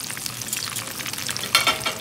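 Frozen lumpia fry in a pan with a bright, crackling sizzle, and a sharper burst of spattering comes near the end as the rolls are turned.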